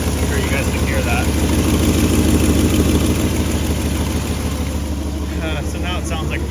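A rough engine with both exhaust manifolds leaking idles with a steady, ticking putter and raspy exhaust pulses, loud and close, with faint voices briefly over it.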